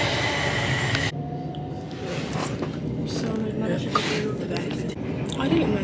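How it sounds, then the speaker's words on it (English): Steady rumbling train noise with a low mechanical drone throughout, people talking nearby over the constant rattle of a moving carriage. "Yeah, I'm on the train"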